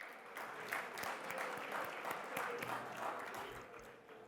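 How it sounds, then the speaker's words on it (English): A large audience claps in a sustained, dense round of applause at the inaugural session of the CREDAI NATCON 2025 real estate convention. The clapping stays fairly even and somewhat distant for the whole stretch. "putting your hands together in a big thunderous round of applause"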